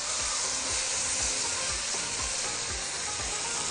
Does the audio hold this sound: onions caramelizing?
yes